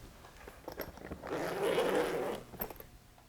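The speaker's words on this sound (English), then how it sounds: "undo the zipper around the case if you have one" A zipper around a violin case drawn open in one steady pull, close and fairly quiet, with a few small clicks and rustles before and after.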